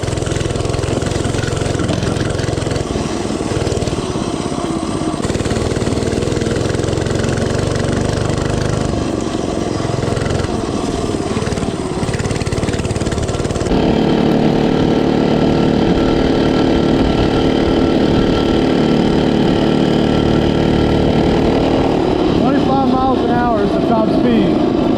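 A cheap mini bike's small engine runs steadily throughout, loud and close, with a drop in pitch and tone partway through as it picks up speed; wind and rustling noise sit over it.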